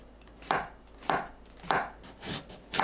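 A knife julienning carrot into thin strips on a cutting board, with about five sharp, close chops falling at a steady, unhurried pace and quiet pauses between them, no voices.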